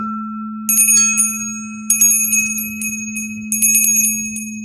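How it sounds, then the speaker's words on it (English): A crystal tuning fork hums in a steady low tone throughout while a small bell rings bright and clear in three bursts, loud and close with no talking. "Hit the tuning fork, the crystal tuning fork, and ring the bell."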